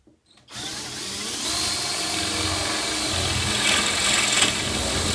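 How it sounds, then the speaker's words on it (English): A power drill fitted with a 5/8-inch bit bores into plywood, starting after a brief pause and then running as a steady, loud, close whine for several seconds without a break. "Then I'm going to take a drill. I'm putting a 5/8 bit in there."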